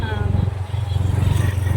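A motorcycle idles at a crowded village fair during a Shani puja gathering in rural Bengal: a steady, close, low engine rumble with murmuring voices underneath.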